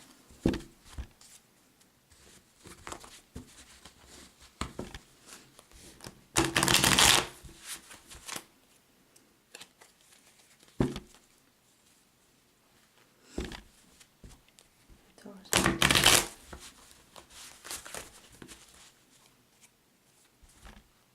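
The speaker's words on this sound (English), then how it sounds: "Just 2 shuffles and then we'll get started." Two bursts of card shuffling, each a dense riffle lasting about a second, separated by quieter rustling and handling of the deck.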